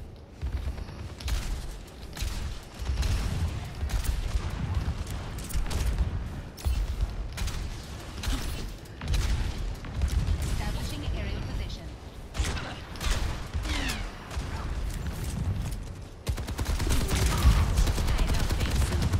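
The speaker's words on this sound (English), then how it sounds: "This soldier is shooting at me from back here." Automatic gunfire from Soldier in the video game Overwatch, dense rapid bursts mixed with other game effects and explosions, sustained at fairly high level over voice chat.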